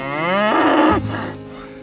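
Cows moo in a brushy pasture, one long, loud, close bellow rising then trailing off, heard alone without talk.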